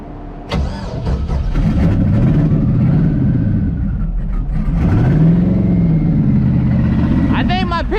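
An LS 5.3L V8 in a Fox-body with blown piston rings starts and idles roughly, loud and close, with uneven revving swells and a sickly rattling note throughout as a voice talks over it.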